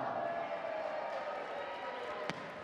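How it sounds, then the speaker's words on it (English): Steady, moderately distant crowd roar filling an arena during a men's sitting volleyball match at the London 2012 Paralympics, with one sharp knock near the end. "The crowd is absolutely loving it at XL."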